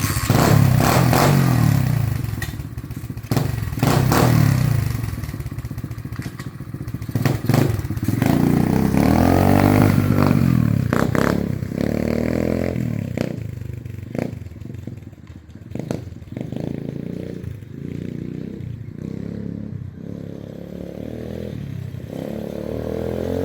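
A clutchless pit bike runs after a valve adjustment with an unpumped rear tire. The engine chugs steadily, close and loud, with blips of revving, mechanical clatter and occasional thumps throughout.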